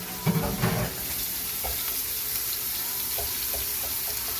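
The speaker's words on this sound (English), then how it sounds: "Get the steak going." A steak starts cooking in a hot pan with a steady, hissing sizzle that runs throughout, opened by a brief louder sputter and scrape in the first second.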